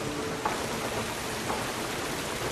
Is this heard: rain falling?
yes